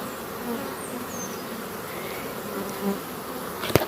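Honey bees buzz steadily around a hive, a dense continuous insect drone with a few individual bees passing close, and a brief sharp knock near the end.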